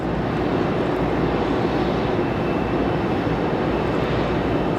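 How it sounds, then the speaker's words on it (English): An ATR turboprop airliner at Raleigh Durham airport gives off a loud, steady broadband engine roar that holds evenly throughout without letup, and nobody speaks over it. "There's the ATR."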